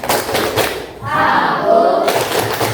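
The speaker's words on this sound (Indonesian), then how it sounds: "Sekali lagi, tepuk anak soleh." A class of students doing the rhythmic 'tepuk anak soleh' clap together, a dense run of claps with voices chanting along, loud and close in a teaching session.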